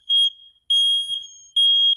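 An electronic alarm, like a smoke or fire alarm, gives three loud, piercing beeps of uneven length with short silent gaps between them and no voices.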